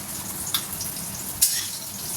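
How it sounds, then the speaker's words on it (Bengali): Fish roe fries in a pan, a steady sizzling hiss broken by two brief louder spatters. "আর একটু ডিম ভাজছে।"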